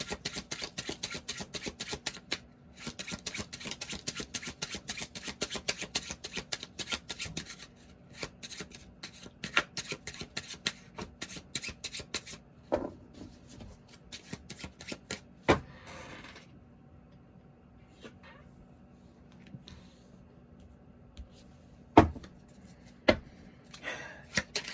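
Tarot cards are shuffled and drawn, giving dense, rapid riffling and flicking at first, then sparser slaps and single card snaps further on, close and fairly quiet with no talking.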